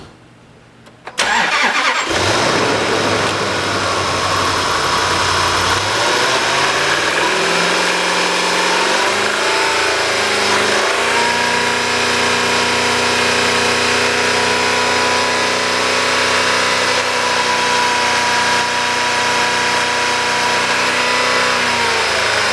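A 2012 Land Rover Range Rover Sport HSE with a 5-liter V8, a good rebuildable engine with low compression in two cylinders, cranks and catches after a quiet second, then settles into a loud, steady close-up idle with no talk.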